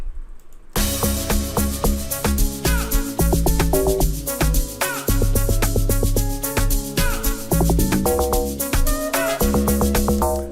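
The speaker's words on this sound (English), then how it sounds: "So that's how the Amapiano log drum is done." Full Amapiano electronic beat with booming, pitched log drum bass notes bouncing under drums and keys, steady groove, loud with no voices.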